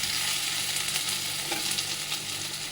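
Green chillies dropped into frying onions for kanda pohe, an even, close, continuous crackling sizzle with light stirring and no voices.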